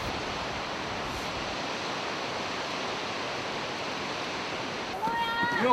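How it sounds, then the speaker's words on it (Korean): The Changbai waterfall in a mountain setting roars as a steady, broad rushing wash of falling water. It holds constant throughout, with a faint voice and a brief tone appearing near the end. "200m 멀리 떨어진 곳에서도 폭포의 소리를 들을 수 있다고 한다"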